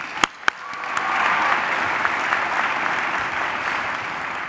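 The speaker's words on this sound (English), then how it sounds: "Let's hear a round of applause for them, actually." A graduation commencement audience applauds the faculty, starting with a couple of sharp claps and swelling into sustained, even clapping from a large crowd.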